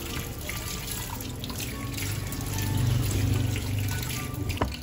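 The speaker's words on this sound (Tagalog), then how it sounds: "So ating munang hugasan ng ating mga sili." Chili peppers washed under a running kitchen tap for sisig na bangus, a steady close rush of water with splashing and trickling into the sink, no voices.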